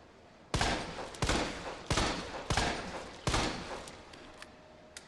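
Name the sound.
gunshots from the video game Resident Evil 2 Remake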